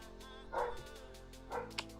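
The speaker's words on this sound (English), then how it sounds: "Oh, come on, I know you have a more powerful bark than that." A dog gives two soft, half-hearted woofs about a second apart, fairly faint, against a steady low hum on a fishing boat at sea.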